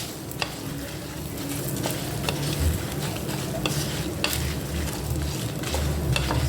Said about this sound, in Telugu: కొద్దిగా ఆయిల్ వేసుకున్నాను, ఈ మసాలాలన్నీ అందులో వేసేస్తున్నాను. ఇది మంచి అరోమా వచ్చేంత వరకు ఫ్రై చేసుకున్నాను